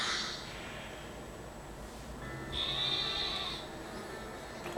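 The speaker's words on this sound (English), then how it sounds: "Oh, there's the adorable little sheep." A sheep bleats once in Pokemon Sword, a short nasal cry rising over a soft, steady background hum.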